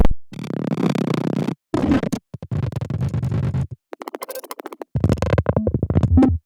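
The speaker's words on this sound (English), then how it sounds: "Now we can go over the glitch noises." Choppy, stuttering glitch bursts made on the Serum synthesizer start and stop abruptly, with gritty buzzing textures and sudden silences between loud synthetic fragments.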